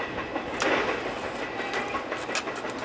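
Norfolk Southern train 228 passes eastbound with a steady rumble and repeated clickety-clack of wheels over rail joints, heard at moderate distance with no talk.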